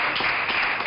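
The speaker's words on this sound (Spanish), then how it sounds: "Un aplauso." A studio audience on a television show gives a brief burst of steady applause, a dense wash of clapping with no voices.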